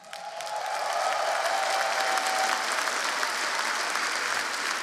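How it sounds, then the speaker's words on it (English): Steady, dense applause from a large esports crowd at a StarCraft II semifinal, IEM Katowice 2017, holding at full strength throughout with a faint cheer rising near the start. "I want to continue to hear the cheering from you guys"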